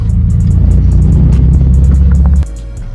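A car driving along the road, heard from inside as a loud steady low engine rumble and road drone that drops abruptly near the end, with faint ticking on top and no talk.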